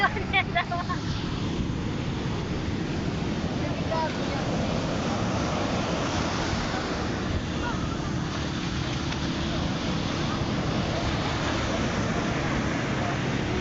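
Ocean surf washes continuously onto a beach, a broad steady roar mixed with wind buffeting the microphone, with brief voices near the start.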